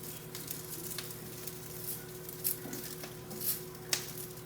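Salmon searing in a hot pan with a steady sizzle and soft spits, a few sharper pops and crackles standing out, close and moderately loud with no talking.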